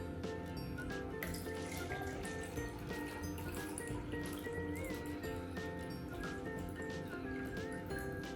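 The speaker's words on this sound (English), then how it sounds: "I'm gonna be pouring 300 milliliters into this measuring jug" Ice water poured into a measuring jug, a continuous close trickling and gurgling stream with faint clinks, running steadily at moderate volume from start to finish.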